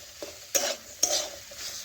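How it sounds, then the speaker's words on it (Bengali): Boiled papaya and chana dal stir-fry with spices in a pan, with a few distinct scraping strokes of a spoon over a soft sizzle, close and brief. "এখন 2 থেকে 3 মিনিট আমি পেঁপেও ভালোভাবে কষে নেব"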